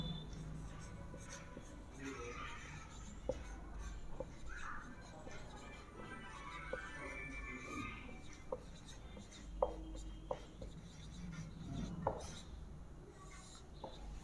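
Pen or marker writing on a board or paper while working a Class 10 math problem on real numbers, with faint scratchy strokes and light taps running steadily under a low background hum.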